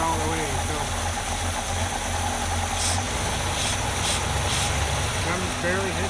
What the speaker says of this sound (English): I'm just barely hitting the throttle.